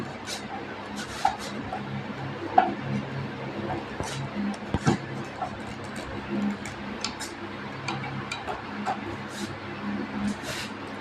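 Screws being fitted by hand while a TV is mounted on a wall, giving scattered small ticks and clicks at close range over steady background noise.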